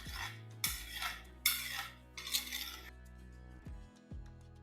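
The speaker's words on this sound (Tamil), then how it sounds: "தட்டை வச்சு மூடி வச்சிடலாம்" A plate set down over a pot of Vaval (white pomfret) fish curry, giving a few sharp metallic clinks and clanks of tableware on cookware, close and alone with no talk.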